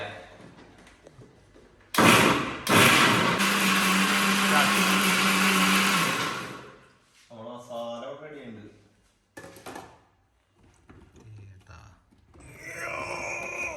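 A mixer grinder whirs loudly for about four seconds, blending a marinade for chicken dum biryani. It then winds down, followed by handling clunks and knocks, with a voice speaking briefly near the end.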